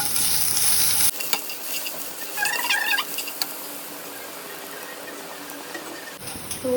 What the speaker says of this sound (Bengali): তো তারপরে একটু আদা ফোড়ন দিয়ে দেবো